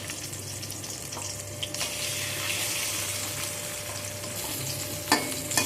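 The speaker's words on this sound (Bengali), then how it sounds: "আরও যে 2টো মাছ ছিল সেই দুটোকে ভেজে নেব।" Two pabda fish frying in a pan give off a loud, dense, continuous sizzle that swells and holds steady, with a brief clatter of a utensil near the end.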